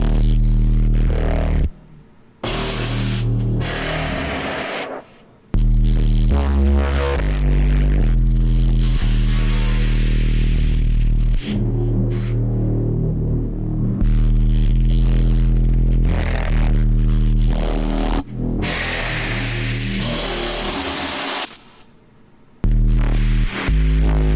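A synthesized tone runs through a Crystalline reverb plugin with OTT compression, producing loud, dense, pulsing chords whose long, dramatic reverb tails swell and cut off abruptly several times, with no voice.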